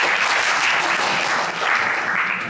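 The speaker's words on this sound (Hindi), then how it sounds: "सब तो तालियां आपके लिए होनी चाहिए" Students in a school gathering applaud steadily, a dense and sustained wave of clapping that fills the room at full volume for a couple of seconds and eases slightly toward the end.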